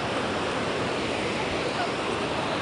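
Ocean surf at a beach, a constant loud wash of breaking waves mixed with wind buffeting the microphone, steady with no clear pauses.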